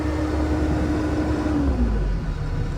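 A 2024 Bobcat E60 compact excavator's engine held at full throttle, a steady close low drone with a faint falling tone, heard from inside the cab without talk.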